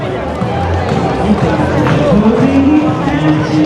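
Crowd hubbub at an Edinburgh festival street performance on the Royal Mile, a steady dense babble of many voices with shifting tones throughout, close and loud.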